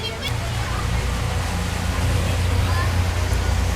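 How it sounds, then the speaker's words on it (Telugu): Boat motor on a ride across Laknavaram Lake: a steady low engine drone with water rushing and wind noise beneath it, running continuously. "సో ఇంకొక ఐలాండ్ దగ్గరికి అయితే వెళ్తున్నాం ఇప్పుడు మేము బోట్లో"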